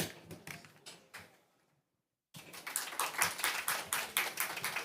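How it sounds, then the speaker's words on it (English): Clapping for a panelist at a COP28 panel session, a room of hands applauding, briefly cut to silence and then resuming stronger and fuller. "Applause is welcome for each panelist as we go through remarks."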